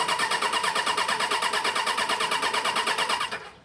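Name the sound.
carbureted 2003 Suzuki Bandit 600 motorcycle engine cranking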